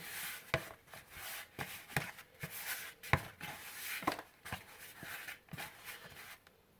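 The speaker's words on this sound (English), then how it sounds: "I'm kneading it gently because you don't want to over knead your" Hands knead dumpling dough for Jamaican fried dumplings, making soft repeated slapping and pressing thumps in an uneven rhythm, close and fairly quiet.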